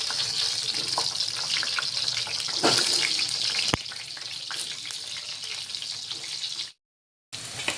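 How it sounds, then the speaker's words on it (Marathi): Stuffed tinda (dhemse) frying in a couple of spoons of oil in a pan, Nagpur-style masala preparation; a steady close crackling sizzle with scattered pops, cutting off briefly near the end before resuming. "आता हे आपण 5 मिनिट या तेलामध्ये आपण करून घेतलेले आहे ढेमसं फ्राय"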